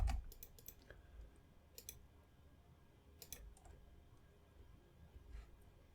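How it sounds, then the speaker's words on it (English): Sparse mouse clicks on a computer network-management interface, a few quiet isolated clicks and short click clusters spaced irregularly over a faint background hum, close and soft, with no talking. "Staged, physical topology, clicking on this."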